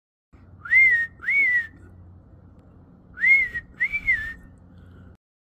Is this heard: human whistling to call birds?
yes